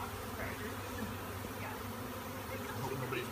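Dense buzzing of a swarm of honey bees during a swarm capture, a steady close hum with individual bees droning by.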